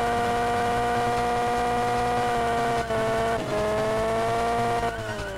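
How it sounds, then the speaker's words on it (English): Loud racing-car engine from the GT Advance 3 video game drones steadily throughout, its pitch dipping and shifting with gear changes, with no talking. "This car is fucking loud."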